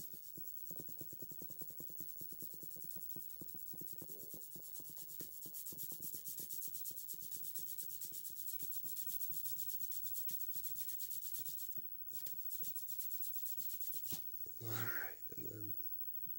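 A cloth rubs and polishes a Sega Genesis game cartridge, giving a soft, steady scratchy rubbing texture up close and faint, with a brief louder handling noise near the end.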